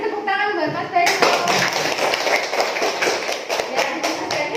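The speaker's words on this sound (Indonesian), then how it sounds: "Kasih tepuk tangan buat Mas Bayu." Classroom of children clapping for a pupil named Mas Bayu after a Quran recitation, a brief dense burst of hand claps that starts abruptly after a voice speaks and carries on steadily with some taps and thumps.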